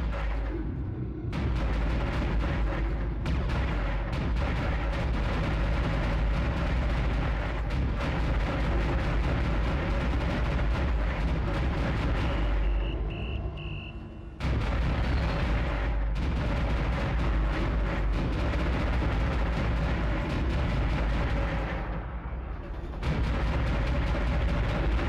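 Gunfire in the sci-fi horror game Dead Space, a dense, continuous barrage of loud booming shots and blasts lasting throughout, with only brief dips in intensity, close and overwhelming.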